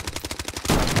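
Rapid gunfire from a mobile shooter game, Project BloodStrike: a quick run of evenly spaced shots, then a louder, denser burst of overlapping fire and impacts.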